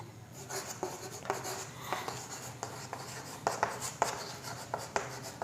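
Marker or chalk writing on a board in a classroom lesson, heard as a run of short, scratchy strokes with little pauses between them, close and fairly quiet, with no talking.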